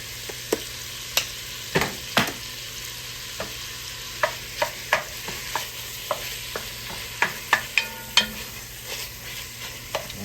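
Ground meat and garlic browning in a pan, with a steady sizzle under repeated scraping and stirring knocks spread across the whole stretch and no voices.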